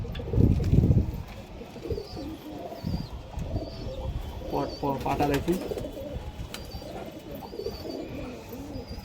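Desi high flyer pigeons coo softly in low, rolling bursts close by, with someone speaking over them and faint chirps in the background.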